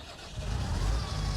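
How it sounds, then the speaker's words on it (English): Combine harvester engine starting in Farming Simulator 19, a brief crank that swells into a low, rumbling idle. "So start the engine, the enter key"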